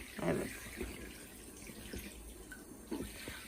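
Water runs from a tap into a bath, a soft steady splashing flow heard close, with scattered louder splashes and a voice over it.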